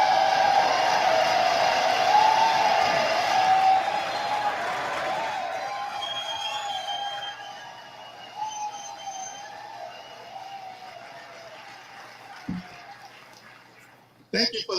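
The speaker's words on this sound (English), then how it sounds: "Thank you for that very generous applause." Loud, sustained applause fills the US House of Representatives chamber with a few whistles mixed in, then fades to a quieter room after about six seconds.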